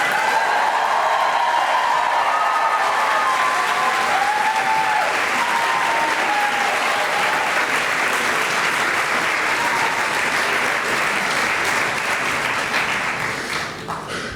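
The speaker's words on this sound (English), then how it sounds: "Now we can have our collective round of applause." A large audience applauds graduates at a Columbia Journalism School graduation ceremony: dense, sustained clapping fills the hall without pause, then tapers off slightly at the very end.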